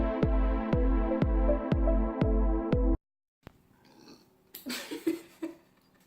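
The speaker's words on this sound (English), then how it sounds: "cannot believe I just turned the camera on and then burp." A woman lets out a rough, throaty belch on camera after a run of evenly spaced tonal pulses and a short silence. The burp is moderately loud and close.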